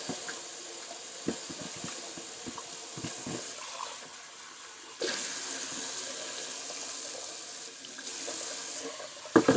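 Hot water runs steadily from a household tap into a sink for nearly ten seconds, a continuous splashing rush that shifts in level partway through, with a few small knocks near the start and a brief clatter at the end.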